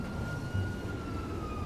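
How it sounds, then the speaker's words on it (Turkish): A fire engine siren in the video game GTA 5 wails steadily in a distant, sustained tone over a low rumbling background, with no talking. "İtfaiye geliyor."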